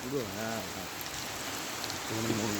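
Rain falling steadily as a soft, continuous patter during a wet-weather trip to a niece's wedding, with brief voices talking at the start and end.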